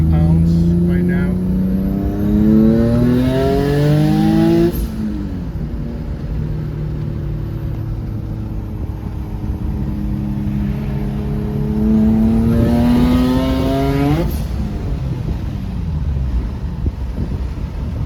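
A single-turbo car engine boosting about 10 psi revs up hard twice, its pitch climbing steadily through the gears, heard from inside with wind noise rushing past.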